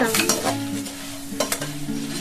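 Dough sweets, Bankura's tana naru, frying in oil in a wok over a medium flame, giving a steady close sizzle with faint stirring scrapes and no voices.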